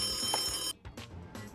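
A rotary telephone bell ringing in short, bright metallic bursts, a sustained ring cut off and followed by two quicker jangles, fairly faint and alone without talk.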